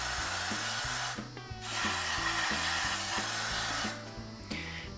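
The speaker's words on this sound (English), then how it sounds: "grab your brake parts cleaner again and spray out all the extra dust and debris that might be in there." Hissing bursts of aerosol brake parts cleaner sprayed during a brake pad change on a British car, loud and close, starting and stopping several times over a steady mechanical hum in the background.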